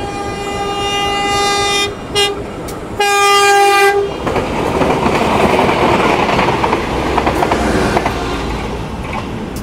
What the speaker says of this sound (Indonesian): ini jalur 1 melintas langsung kereta api Bandara Express dari stasiun Bandara YIA tujuan akhir Yogyakarta